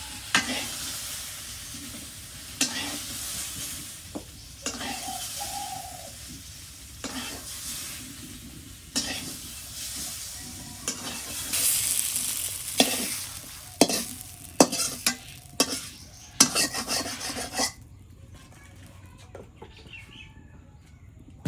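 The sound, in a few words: frying food in oil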